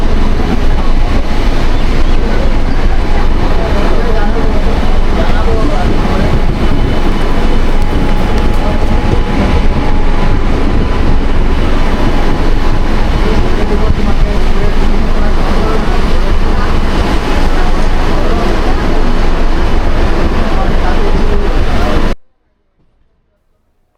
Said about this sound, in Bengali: আমাদের ট্রেন শিয়ালদা ছেড়ে যাচ্ছে